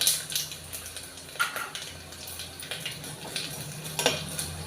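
Four or five dried red chillies sizzling in hot oil in a pan for a dal tempering, a soft crackle under light clinks and stirring of utensils against the pan.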